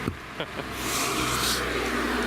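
A Smart car drives past on a street in Kamakura, Japan, its small engine swelling as it comes close, after a few faint taps at the start.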